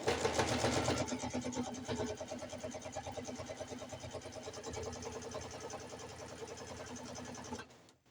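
A sewing machine fitted with a walking foot runs fast while stitching quilt binding, producing a close, rapid mechanical whirr with a rhythmic needle patter that carries on steadily, then stops abruptly near the end.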